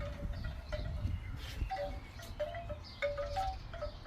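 Gentle metallic chime tones ring out intermittently, a few soft notes at a time, over a steady rush of wind.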